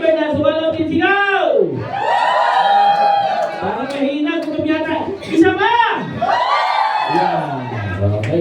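Audience members at an OBP event in Dasmariñas shout and cheer loudly together, a dense continuous crowd roar with rising and falling whoops lasting the whole stretch.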